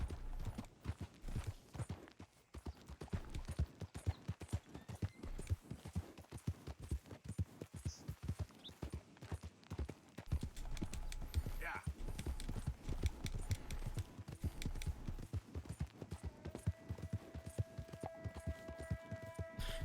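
Horse hooves clip-clop in Red Dead Redemption 2, a steady rhythmic run of close, crisp hoofbeats with a low engine-like hum underneath and occasional game tones near the end.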